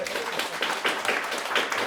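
Audience at the Estcon 2026 conference clapping after a talk, a moderately loud patter of many hands in a hall, brief and somewhat uneven.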